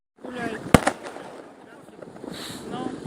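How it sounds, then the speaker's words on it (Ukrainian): Fireworks go off in a residential courtyard: one loud, sharp, close bang with crackling fallout, followed by fainter distant pops while people talk. "Салют где-то везде швыряется, а непонятно где он вообще"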